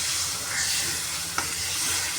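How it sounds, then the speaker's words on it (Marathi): Masala frying in a pan for lasuni methi, a Marathi fenugreek and garlic dish, gives a steady close sizzle and hiss as a little water is poured in, with one brief sharp click partway through. "त्यात थोडं आपण असं मिक्सरचं भांडं थोडंसं पाणी हिसळून टाकणार आहोत."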